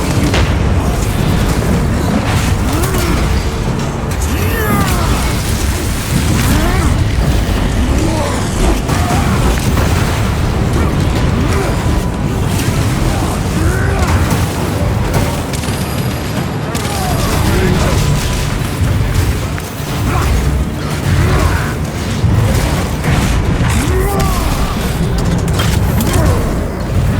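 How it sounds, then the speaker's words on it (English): Frag grenade blasts and heavy booming combat in Warhammer 40K Space Marine 2, loud and nearly continuous, layered with battle noise and voices talking throughout. "Throw your frag grenade!"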